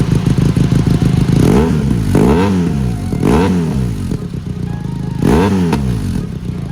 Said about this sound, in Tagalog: Parinig ko rin sa inyo ang pangatlong pipe na napili natin. Pero dito na tayo sa black.